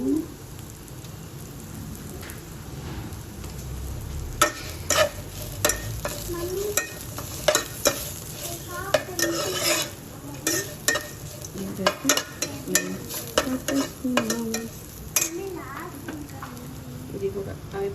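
Red chilli powder being stirred into a dish frying in ghee, a low sizzle under repeated scraping and clattering stirring strokes that grow busier midway, with some talking in the background.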